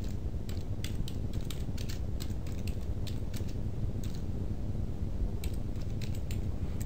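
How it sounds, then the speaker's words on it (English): Rapid keystrokes on a computer keyboard clatter steadily and close by, a continuous patter of clicks with no voices. "let's type in update list price."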